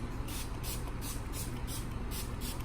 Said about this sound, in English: I'm just gonna spray that